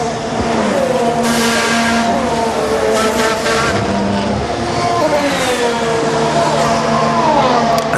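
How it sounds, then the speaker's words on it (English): A Toro Rosso Formula One car races around a track, its engine screaming loudly and continuously at high revs, with the pitch rising and falling through gear changes and corners. "whilst we watch Danny Kvyat in the Toro Rosso"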